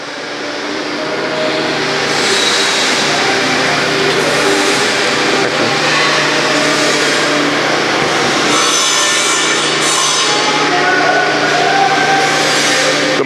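A bandsaw slices through wood while a dust collection system roars alongside, a loud, continuous rasping whir holding steady for several seconds with slight swells and dips, close by and without any voices.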